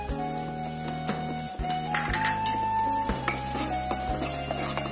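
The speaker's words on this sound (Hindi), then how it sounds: "इसके साथ ही हम डालते हैं अदरक लहसुन का पेस्ट।" Ginger garlic paste sizzles and crackles steadily in hot oil while a spoon stirs and scrapes the pan, with a constant close frying hiss.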